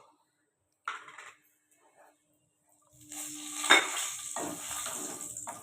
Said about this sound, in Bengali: এই তেলের মধ্যেই আমরা ওই যে এলাচ আর দারচিনি দেখিয়েছিলাম আর তেজপাতাটা ফোড়ন দেব